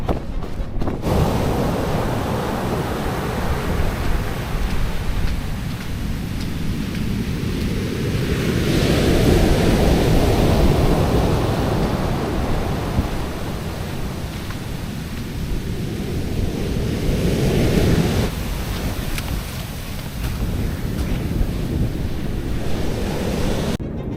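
Ocean surf breaks on the New Zealand coast, loud and close, with broad rolling washes of waves swelling and receding over and over, mixed with rumbling wind buffeting the microphone.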